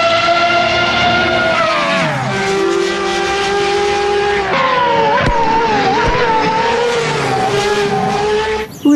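A toy Formula One race car puts out a continuous, loud, buzzing engine whine that rises and falls in pitch, close by, with a couple of sharp clicks near the end.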